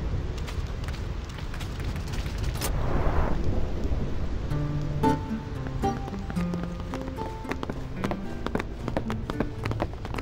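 Thunder crashes through a rainstorm in the game Final Fantasy X, with a sharp crack and a rolling rumble early on over steady rain, followed by scattered taps and a few tonal game sounds.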